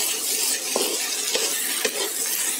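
Sardine and potato curry puff filling sautés in a pan, a steady close sizzle broken by a few scraping stirs of a spatula, with no talking.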